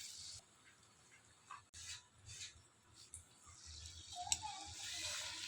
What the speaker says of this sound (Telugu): ఈ పిండిలో ఎగ్ మొత్తం ముంచుకుని ఇది ఇలా ఆయిల్లో వేసుకోవాలి